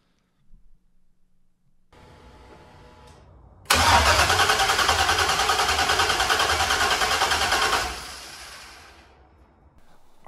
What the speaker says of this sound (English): I've tried a couple times to start the engine and it just wouldn't crank.